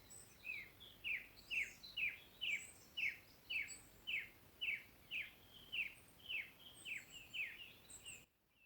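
Small birds singing in spring, a steady run of about fifteen bright, evenly spaced chirps close by, each a short rising-and-falling note, over faint background birdsong and no talk.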